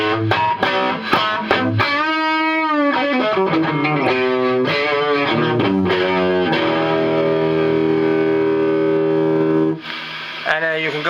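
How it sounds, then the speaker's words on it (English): Electric guitar played through a Gollmer Fat Dist distortion pedal, with thick, fuzzy overdriven chords and sustained notes ringing loud and continuous, briefly dipping near the end before the playing resumes. "you can play around with it for days and find all kinds of fuzzy distortion kind of settings"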